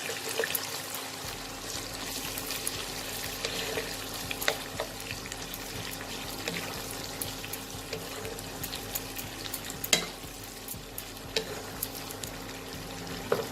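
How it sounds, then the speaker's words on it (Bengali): Chopped onions fry in a pan with a soft, continuous sizzle, broken by occasional scraping clicks from stirring, with no voices. "এই পেঁয়াজটাকে আমি লাল করে ভেজে নেব।"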